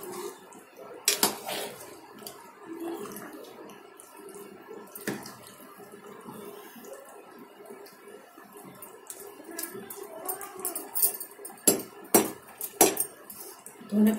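A spoon stirs vegetarian moong dal khichuri with fried vegetables in a pot, giving soft wet scrapes and sporadic metallic knocks against the rim, louder clanks clustering toward the end.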